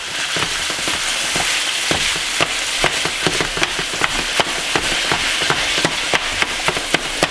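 Ground venison frying in oil in a pan over medium heat, a steady dense crackle and sizzle throughout with regular sharp taps as the meat is broken up and stirred.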